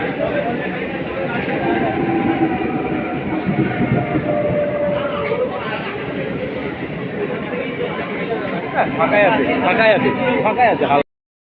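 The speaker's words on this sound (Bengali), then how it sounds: "দেখলাম হ্যাঁ, ট্রেনটা আসছে।" A train pulls into a busy railway station platform, its steady rolling rumble continuous under crowd chatter and babble throughout, fairly loud and close.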